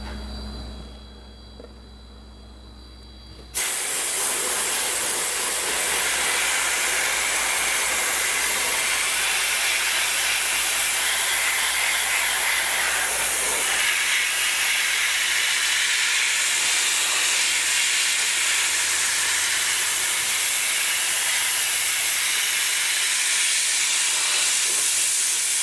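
Dry ice blasting with 1 millimeter particles strips cosmoline from the undercarriage of an E36 M3, a loud, steady, roaring hiss that starts abruptly after a few seconds of quiet hum and continues unbroken.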